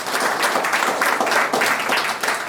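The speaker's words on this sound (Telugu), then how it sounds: "సార్ గట్టిగా చప్పట్లు కొట్టారు." An audience at a poetry book launch claps loudly and steadily for a few seconds, a close, full round of applause with no talking over it.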